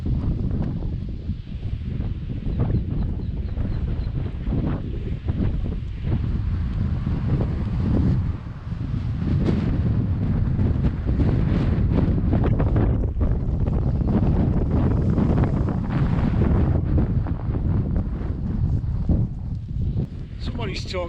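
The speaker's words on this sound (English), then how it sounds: "Absolutely freezing, really windy, really cold." Strong, cold wind sweeps across an upland hillside on the Southern Upland Way, buffeting the microphone with loud, continuous roaring gusts throughout, with a person speaking under the blustery noise.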